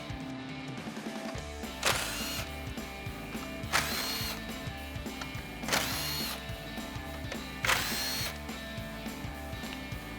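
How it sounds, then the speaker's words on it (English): Impact wrench with a 10mm socket running out grille bolts on a 2021-2023 Ford F-150, a steady mechanical rattle with four brief louder bursts spaced about two seconds apart, close and continuous. "So we'll grab our 10mm socket on our impact, go ahead and run those bolts out"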